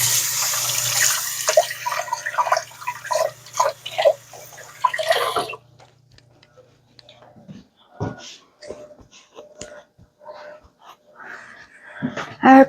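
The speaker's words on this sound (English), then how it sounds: "Let me wash my hands." Tap water runs loudly as hands are washed under a kitchen faucet, a steady splashing for several seconds that then stops, followed by quieter clinks and handling noises.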